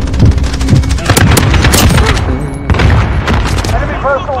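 A rocket blast amid Call of Duty Warzone combat lands as a loud boom among scattered gunfire and impacts, dense and close, with players chattering over the action.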